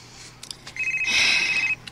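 A mobile phone rings with an incoming call, a bright electronic ringtone sounding steadily for under a second, fairly close and clear over a quiet room after a few faint knocks.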